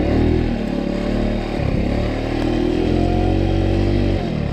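A small scooter engine revs hard and steadily while climbing a steep off-road hill meant for enduro bikes, loud and close with a brief dip in revs midway and another near the end.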